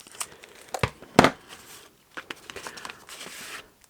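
Scissors snipping open the back of a greeting card envelope, a couple of sharp paper cuts and crinkles followed by softer rustling, close and alone.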